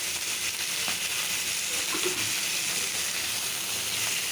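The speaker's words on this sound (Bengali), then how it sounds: "মাছগুলি ভেজে নিচ্ছি কারণ এই মাছ ভাজা ছাড়া রান্না করলে মজা লাগে না খেতে" Pieces of fish fry in oil with a continuous, even sizzle close by, steady throughout with faint occasional crackles and no talking.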